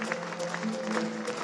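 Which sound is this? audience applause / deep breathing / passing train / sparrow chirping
audience applause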